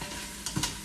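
Diced onion and minced garlic cook in a pan with a soft, steady sizzle, broken by a couple of brief stirring scrapes, all faint and close, with no talking.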